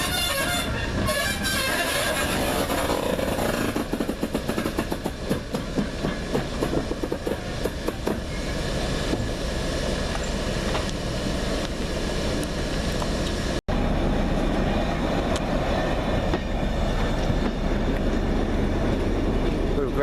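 Loud rolling rumble and clickety-clack of a brake van being gravity shunted on a heritage railway during a diesel gala, wheels rattling steadily over rail joints with a horn toot near the start, close and continuous.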